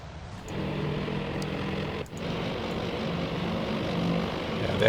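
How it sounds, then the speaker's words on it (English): Propeller-driven dive bomber engines in the carrier combat game Task Force Admiral, a steady droning roar held at constant loudness with a brief dip midway, no voices. "Let's have a look at the dive bombers."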